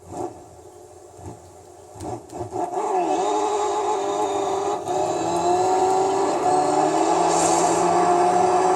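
A Toyota Corolla rally car in Gran Turismo 3 drones steadily at high revs after a few brief knocks, its engine tone holding loud and continuous throughout.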